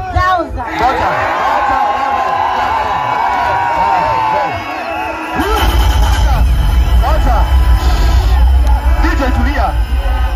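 A crowd at a fundraising event breaks into loud clapping and cheering midway through, a dense roar of applause that follows someone speaking over a microphone.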